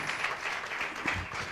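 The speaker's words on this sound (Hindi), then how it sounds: "एक ज़ोरदार ताली प्रभु यीशु मसीह के लिए" Congregation clapping at a church meeting in honour of Jesus Christ, a steady, dense patter of many hands filling the room, moderately loud and continuous with no voice over it.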